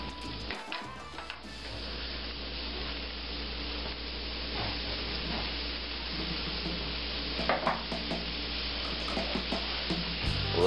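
Onions sauté in oil in a pan, a continuous close sizzle with intermittent utensil scrapes and clinks that grow busier toward the end.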